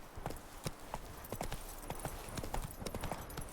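Horse hooves trotting in The Witcher 3 video game, a steady clip-clop rhythm of repeated sharp hoof strikes, moderately loud and close, running continuously over a low ambient background with no talking.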